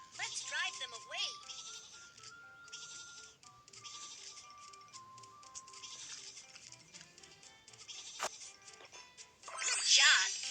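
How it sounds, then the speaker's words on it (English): Several sheep bleat repeatedly on a train track, wavering calls coming one after another at moderate distance over a faint background, with a louder burst near the end. "Some sheep are on the train track."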